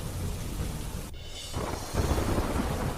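Steady heavy rain falls during a monsoon storm in Kutch, Gujarat, with a sudden crack of thunder and a deep rumble rolling through, the downpour swelling louder near the end.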